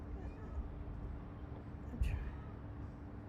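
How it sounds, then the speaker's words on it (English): A cat meowing indoors, a short, faint cry that rises briefly above a low steady room hum, with no voices during it. "That cat is just, I don't know if you guys can hear it. It's like, meow, meow, meow, meow."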